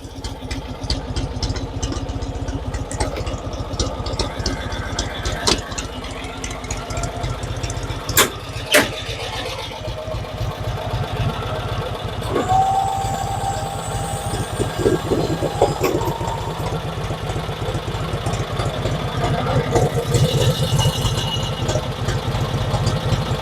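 A 1986 Cushman Truckster's two-cylinder engine idles steadily and fairly loud, close by, with a rough, even chug running throughout.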